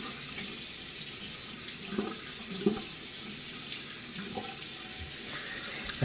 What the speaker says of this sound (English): I'm gonna get my face wet